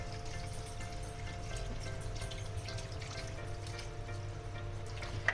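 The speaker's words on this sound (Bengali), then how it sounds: "এবার আমি এর মধ্যে দিয়ে দেবো জল।" Water is poured into fried spice paste in a pan for a thin hilsa and eggplant curry, a soft steady pouring and sizzling wash that runs evenly throughout without speech.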